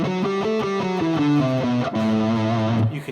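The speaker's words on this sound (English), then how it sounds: "So if I play A Ionian" An electric guitar with a slightly distorted tone plays a scale in the A Dorian mode, picking single notes one after another in a steady run, close and clear with no voices.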